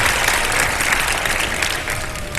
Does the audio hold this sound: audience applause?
yes